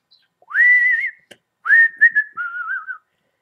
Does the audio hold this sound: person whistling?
yes